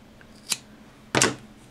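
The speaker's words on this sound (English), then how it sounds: "And then I'm going to chain one and cut this back here." Scissors snip crochet yarn, with a light click followed by one sharper, louder cut, close and alone.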